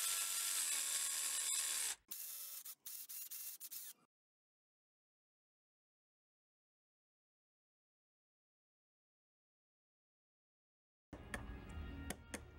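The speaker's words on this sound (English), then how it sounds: "With the jigsaw, I made the angled cuts." A jigsaw making angled cuts in wood for a children's play tent: a loud, steady buzzing saw run at the start breaks into choppier bursts, then near silence, before the rough cutting noise starts again near the end.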